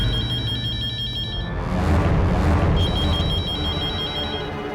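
A telephone rings loudly and close by in an Odia television serial scene, its electronic tone pausing briefly before ringing again, with no speech.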